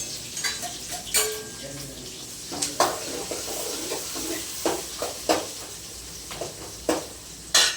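Fennel seeds dropped into hot oil in a pan, sizzling and crackling with irregular sharp pops and spoon stirring clinks up close over a faint steady hiss.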